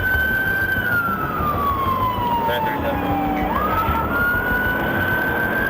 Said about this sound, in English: When Deputy McGuigan activated his lights and sirens, the driver fled